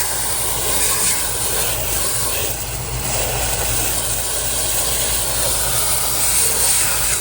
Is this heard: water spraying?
yes